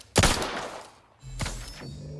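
Pistol gunfire in The Outer Worlds 2 video game: a loud burst of rapid shots opens the clip, then fades, and a second cluster of shots follows with some rumble behind it.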